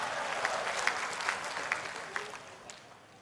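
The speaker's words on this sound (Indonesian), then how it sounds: "Tepuk tangan buat Indonesia." An audience at a stand-up comedy show in front of the Indonesian president claps in a dense burst of applause that gradually fades over a few seconds.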